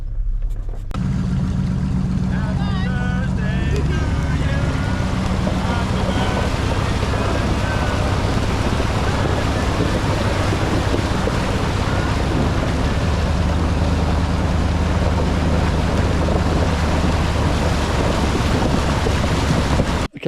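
A four-wheel drive cruiser ploughs through a creek, a steady loud rush of churning water and engine rumble with wind buffeting the microphone throughout, continuous and close for the whole stretch.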